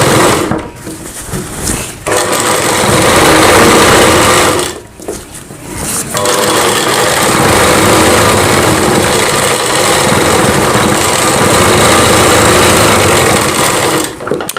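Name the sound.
sewing machine stitching a blouse seam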